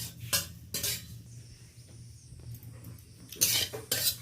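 Cumin and fennel seeds are dry roasted over low heat in a pan and stirred with a utensil, giving several scraping, clinking strokes near the start and end over a low background hum.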